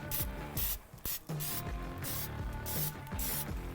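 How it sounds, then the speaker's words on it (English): Oil is sprayed onto chicken wings cooking on a Slow 'N Sear kettle grill, in several short hissing bursts between steady background noise. "We're gonna go ahead and spray this side with some oil."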